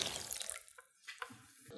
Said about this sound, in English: I have 8 ounces or 240 mils of water, and I'm going to pour this over the top just like that.